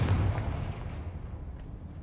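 A Confringo blasting spell explodes in Hogwarts Legacy, a loud booming blast at the start that rolls off into a fading rumble, with a few faint ticks afterward and no talk.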